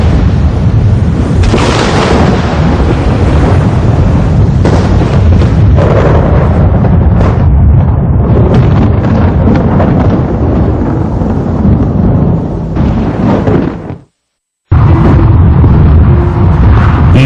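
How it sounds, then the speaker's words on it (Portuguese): Thunder from a lightning strike rumbles loud and sustained for about thirteen seconds, a deep rolling roar with bursts, before cutting to brief silence and resuming. "Um raio foi criado."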